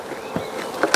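Honey bees hum and buzz close by over an open hive during an inspection, with a few brief louder passes in a short burst.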